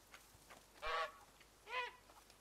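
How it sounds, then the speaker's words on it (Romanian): A goose in the video game A Plague Tale: Innocence honks twice at a moderate distance, each call short and nasal, with a pause between them over quiet background ambience. "Rațe! Gâsca!"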